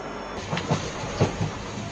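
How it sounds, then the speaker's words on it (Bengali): A train at Kalchini intermediate station gives off a low rumble with a few soft clacks from the rails, steady and moderately close. "কালচিনি ইন্টারমিডিয়েট স্টেশনে ট্রেনটা দাঁড়িয়ে পড়লো।"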